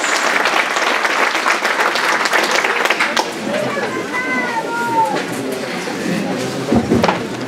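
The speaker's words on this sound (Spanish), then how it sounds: "Quisiera pedir para nuestros conferencistas un fuerte y caluroso aplauso" An audience at a rural participatory diagnosis event in Colombia and Ecuador applauds the speakers with loud, dense clapping that fades a little midway, while voices talk over it.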